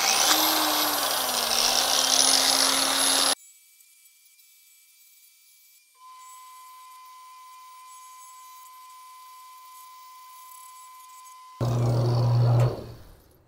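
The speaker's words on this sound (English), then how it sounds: "we'll use this surface finishing disc to get some of those grind marks out and get this thing closer to polished" A variable speed grinder with a surface finishing disc polishes steel. A loud, whining grinding roar at the start cuts off into a near-silent stretch with faint steady tones, then the grinding roar returns briefly near the end.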